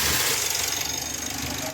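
A Mitsubishi L300 Euro4 van's engine cranks and catches, a steady loud mechanical rumble with knocking texture filling the short stretch and settling toward idle; a check engine light had been on.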